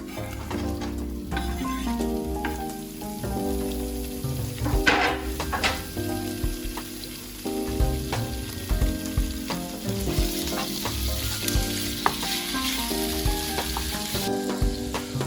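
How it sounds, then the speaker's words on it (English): Beef sausage fries and browns in a pot for Louisiana-style red beans, a steady close sizzle with intermittent scraping and clinking from stirring, no talking. "we're just gonna cook that until it browns, just draw some of that beef flavoring out of the sausage"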